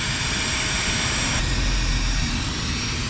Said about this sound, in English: So we're back on a flex tail pump as usual. Just let it inflate now.